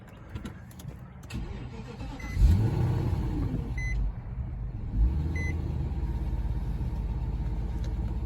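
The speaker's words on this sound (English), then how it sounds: "Let's go ahead and start it." An Infiniti/Nissan engine, just repaired for a cylinder 1 misfire, cranks briefly and catches, then settles into a steady, even idle, with a couple of faint electronic beeps.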